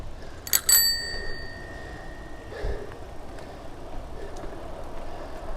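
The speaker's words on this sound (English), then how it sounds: "So I got a bell on this bike" Bicycle bell rung twice in quick succession, bright metallic dings near the start, while a rider coasts downhill on a summer ride; steady wind and road rumble continue underneath afterward.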